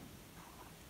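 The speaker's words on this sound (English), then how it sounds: "Saturday evening, finally we got some rain." Rain falls steadily on a Latvian homestead on a Saturday evening, a soft, even wash of noise with no distinct drops standing out.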